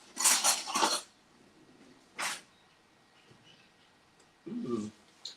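A knife blade poked into freshly baked chocolate caramel tigré cakes in their tin, giving a few brief metallic clinks and scrapes close by, separated by quiet pauses.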